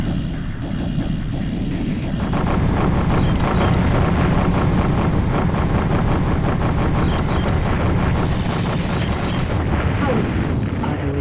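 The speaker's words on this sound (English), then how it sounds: "Orbital cannon in range. Charging. Firing in 10 seconds." A charging orbital cannon fires in the space combat game Colony Wars, a sustained loud roaring barrage with dense crackling bursts that swell after the first couple of seconds and continue throughout.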